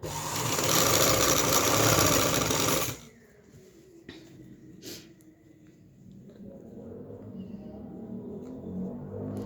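A sewing machine stitches trim onto a thick pashmina suit, running loud and steady for about three seconds up close before stopping, followed by quiet handling noises.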